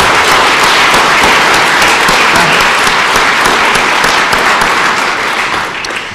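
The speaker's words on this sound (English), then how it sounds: "Let's give him a nice round of applause for both of these new additions." Loud, dense applause from an audience at a city council swearing-in ceremony in Schenectady, welcoming new council members; steady clapping fills the whole stretch and tapers slightly at the end.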